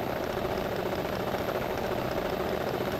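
A rally car in EA Sports WRC sits on the start line with the handbrake held, engine idling and revving in a steady, dense drone that holds level throughout.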